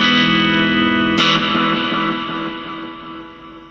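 An electric guitar plays a clean tone through a Nux MG200 modeler with delay: a loud sustained chord struck once more partway through, then ringing and slowly fading.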